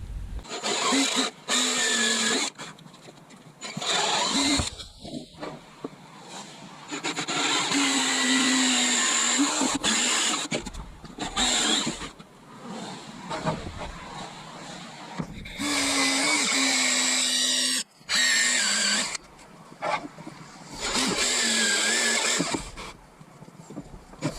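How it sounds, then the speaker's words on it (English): A power drill whines in repeated bursts while drilling holes in a chair being restored, revving up and cutting off several times, with short quiet gaps and handling noises between runs. "I can drill them out"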